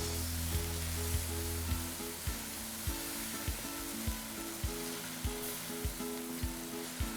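Crab pieces cook in chilli sauce in a pan with a steady bubbling sizzle, punctuated by a regular series of sharp knocks, likely a utensil tapping the pan as it stirs.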